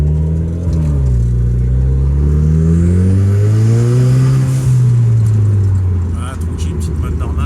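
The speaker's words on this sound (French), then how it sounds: "Ça pétarade gentiment, mais rien de fou." Renault Clio 4 RS Stage 3 engine heard from inside the car in normal mode, a loud steady drone with rising and falling revs, under continuous talk, with no distinct pops standing out.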